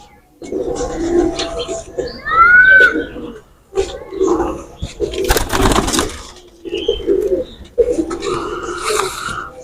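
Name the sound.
pigeon cooing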